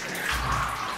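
A hotel-room shower runs, giving a brief, steady hiss of falling water at close range with no pauses.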